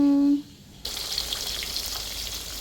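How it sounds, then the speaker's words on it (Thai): Fish, a Thai pla tako, frying in hot oil, a loud steady crackling sizzle that starts abruptly after a brief voice and continues close up and unbroken. "ทอดปลา ทอดปลา"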